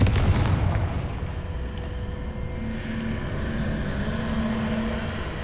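A Confringo fire spell explodes in the video game Hogwarts Legacy, a sharp loud burst at the start that rolls into a sustained rumbling roar and crackle.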